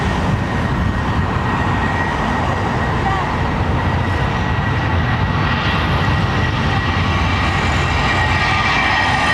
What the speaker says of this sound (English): Virgin crew are going to be like